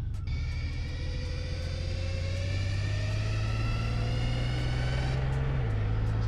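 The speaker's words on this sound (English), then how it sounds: "it does give you an idea as to what it's like to ride in a DeLorean. It's really quiet, it's real tame, it's not like crazy and loud" Steady, low engine drone inside a twin-turbo LS-swapped DeLorean cruising slowly, a smooth, even hum with faint higher whine and no revving, with the engine note dipping slightly near the end, no talk.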